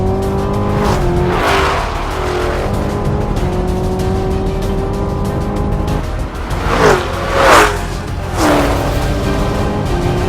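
A 2020 Mustang Shelby GT500 and a Camaro ZL1 launch side by side in a drag race, engines roaring loud and steady with rising revs and gear changes, heard close with no talking.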